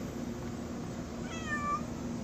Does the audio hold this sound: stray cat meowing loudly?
yes